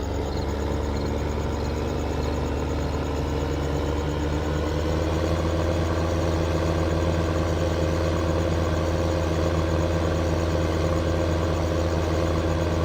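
Tractor engine in Farming Simulator 15 running in a steady, continuous low drone, idling or cruising at constant revs with no talk.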